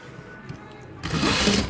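A sewing machine stitching thread piping on a blouse starts up after a quiet opening second and runs in a steady, close mechanical whir.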